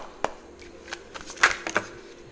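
Crisp papery riffling of tarot cards being shuffled, several quick bursts with soft taps in between, close and fairly quiet, no talking.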